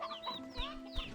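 A rooster in the video game Slime Rancher 2 gives a few short clucks and chirpy calls over a steady game background hum, fairly close and moderately loud.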